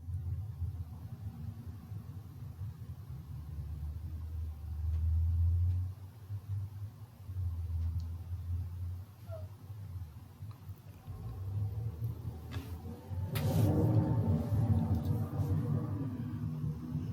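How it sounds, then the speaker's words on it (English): A garbage truck rumbles outside with a low engine drone that swells and recedes, followed by a louder burst of mechanical clatter and hissing near the end, heard faintly from indoors. "It seems like I'm always doing a voiceover when the garbage truck is coming, so it's kind of loud outside today."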